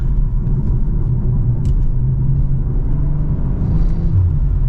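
A BMW M340i sedan with an 8-speed gearbox takes a sharp turn, its engine a steady, close low rumble throughout with no talking.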